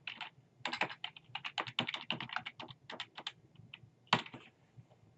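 Bursts of computer keyboard typing as a password is entered on a Windows sign-in screen, quick irregular clicks of close keys with short pauses, one louder key press near the end.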